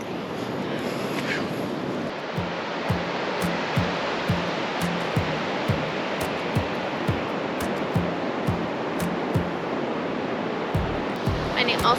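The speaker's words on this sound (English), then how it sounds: "Now we're at the ocean. we're at a beautiful beach." Ocean waves on a beach on the Long Beach Peninsula, Washington State, a continuous loud roar of surf with soft thumps recurring throughout, no talk.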